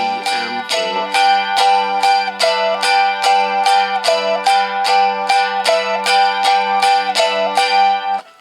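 A mandolin strums a 12-bar blues pattern in G with even, rapid downstrokes, bright ringing chords repeating about twice per second, close and loud, with no talking.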